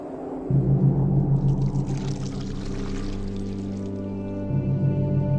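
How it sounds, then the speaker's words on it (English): Liquid chocolate poured from a height between cylinder jars, a steady splashing stream with bubbling at the bottom, running continuously and close, with a low hum underneath and no voices. "the other used to pour from a height, creating this cascading waterfall of chocolate with bubbles at the bottom"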